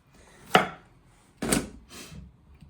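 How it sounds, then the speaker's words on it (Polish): Knife chopping a zucchini into rough cubes on a cutting board, two sharp close strikes followed by a softer third cut, with quiet pauses between. "potrzebujemy do tej frytaty połowę cukinii, niecałą i pokroję ją w kostkę."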